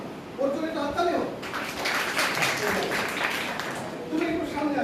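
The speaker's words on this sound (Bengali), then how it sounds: "ওর জন্য একটা হাততালি হোক" Student audience at a consumer awareness program applauding for a classmate, steady clapping through most of the clip, with a person talking at the start and end.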